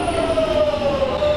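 A London Underground Jubilee line 1996 stock train heard from on board, a steady rumbling roar with a sustained tonal whine running throughout, loud and continuous without pauses.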